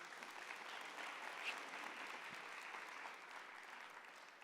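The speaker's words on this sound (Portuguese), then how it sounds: "Aplauda a palavra de Deus" A Catholic church congregation applauds, a steady, even wash of many clapping hands heard from a distance and holding throughout.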